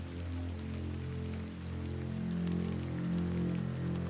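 Steady rain falls in The Excavation of Hob's Barrow, a dense, even patter that runs unbroken for the whole stretch, layered over low sustained ambient tones.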